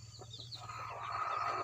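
A brooding hen gives a few soft, brief clucks close by, faint and quick in a quiet setting.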